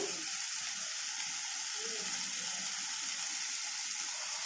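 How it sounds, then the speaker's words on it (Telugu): Chopped tomato frying in a pan for vada curry, a steady, even sizzle with soft hissing that holds constant throughout. "ఇందులోకి కట్ చేసి పెట్టుకున్న టమాటా వేసి బాగా మగ్గనివ్వాలి"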